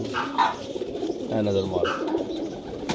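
Migratory flying pigeons caught at a dera in Jhelum coo close by in short low bursts, mixed under someone talking throughout.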